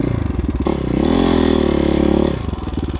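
A KOVI Advance 250 enduro motorcycle engine cranks and catches, rising into a loud steady idle for a couple of seconds before dropping back to a chugging rhythm, recorded up close.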